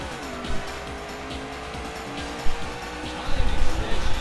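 Race car engine drones with tire squeal in a racing video game, a dense continuous snarl with sharper bursts and low rumbling thumps toward the end.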